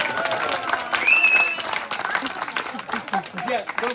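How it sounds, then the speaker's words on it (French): An audience applauds in a hall, clapping mixed with crowd noise and some voices over about four seconds, swelling briefly then continuing unevenly. "Sous vos applaudissements,"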